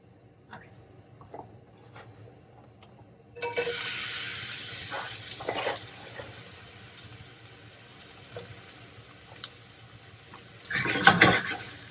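Onions hit a hot pan in a home kitchen for spaghetti. After a few quiet seconds, a sudden loud, steady sizzle erupts and keeps crackling, with a few clinks and a louder stir near the end.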